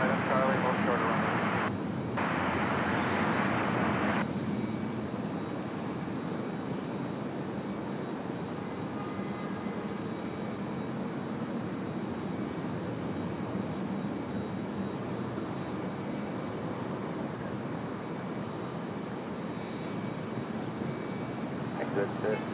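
At Raleigh-Durham International Airport, an airplane gives a steady, broad engine roar that runs throughout, with radio voices heard over it.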